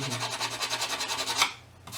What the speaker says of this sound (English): Sanding or filing the case, where I'm going to apply glue